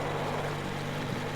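A boat engine drones steadily in Metro Exodus, a low, even hum with a constant pitch that holds for the full short stretch without any speech.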